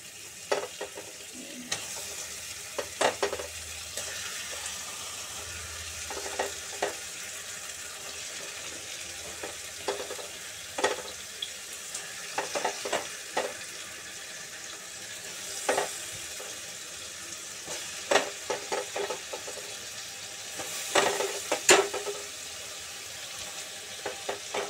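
Loitta (Bombay duck) fish frying in spiced oil in a pan, with a soft continuous sizzle and repeated sharp scraping and stirring clatters throughout.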